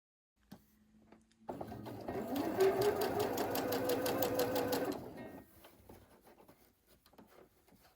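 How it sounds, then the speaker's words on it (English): A sewing machine stitches together pieces of an Ohio Star quilt block, running in one steady, fast-pulsing burst of a few seconds that starts and stops abruptly, with faint handling noises before and after. "let me go ahead and flip you around so that you can see this machine in action"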